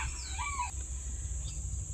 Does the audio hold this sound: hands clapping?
no